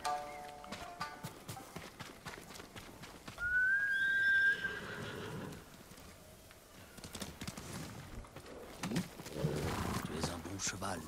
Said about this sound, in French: Tu es un bon cheval, Nobu.